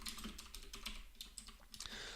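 Code being typed on a computer keyboard: a quick run of soft, faint keystroke clicks, close by, with no voice over them.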